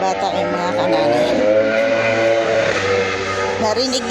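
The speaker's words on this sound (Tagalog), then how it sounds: "Narinig niyo po yung ingay ng racing motor." Racing motorcycle engine running nearby in an overgrown rural spot, a loud sustained droning whine that rises and falls in pitch, steady throughout.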